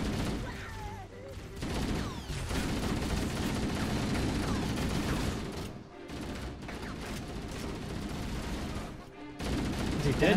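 Sustained game gunfire from Halo played in co-op, dense continuous bursts of shots running almost the whole time, with a brief gap near the middle and a lull toward the end, loud and close.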